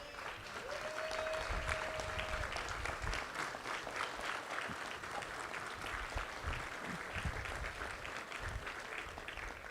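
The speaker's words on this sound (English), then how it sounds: "please stand and let's hear a round of applause" An audience at a transit line milestone celebration applauds steadily, a dense wash of clapping that stays loud and even for the full stretch with no break.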